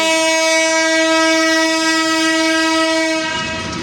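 A loud, sustained horn from an American-built diesel locomotive blares close by at Parbatipur Junction, then cuts off as the rumble and clatter of the passing train take over.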